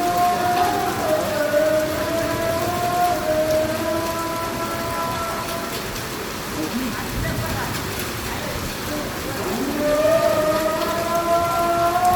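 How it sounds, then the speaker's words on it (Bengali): A dense, steady roar of heavy rain continues throughout, with a faint voice and tonal sounds drifting in and out over the downpour. "এই দেখেন কি বৃষ্টি অজোর বৃষ্টি করতেছে"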